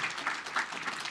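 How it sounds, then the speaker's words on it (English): Audience applause in a council meeting, a short burst of steady clapping from a room of people, moderately loud with no voices over it. "Big round of applause."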